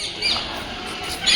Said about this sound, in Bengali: কত দেখ কালারিং টিয়া পাখি।